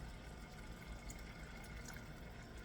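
Water running and splashing steadily into a pot of basmati rice with raisins and saffron, a continuous close rush of liquid with no talk.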